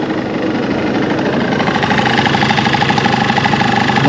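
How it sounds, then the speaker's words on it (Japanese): A Honda Live Dio ZX scooter idles close up with a steady, even engine drone, and a rapid metallic rattle from its faulty muffler runs continuously beneath it. "マフラー変でカタカタ言うてるね"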